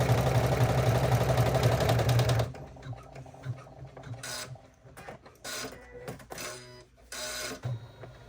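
A Janome embroidery machine stitches a bag held in the hoop, first with a loud, rapid, continuous mechanical chatter, then with shorter intermittent bursts of stitching and clicking as it moves around.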